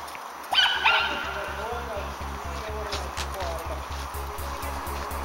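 A dog barks and whimpers with short yelps near the start, then the sound settles under steady rhythmic background noise and murmured talk.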